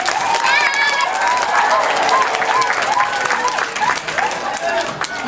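A school assembly audience applauds in a dense, sustained round of clapping with scattered cheers and children's voices talking over it.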